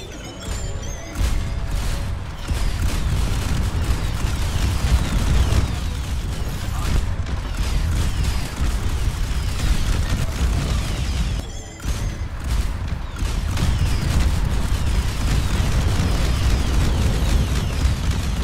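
Triple Bastion ultimate artillery bombardment in Overwatch 2, a continuous roar of loud overlapping explosions and booms with mechanical clatter, dipping briefly twice before the barrage resumes.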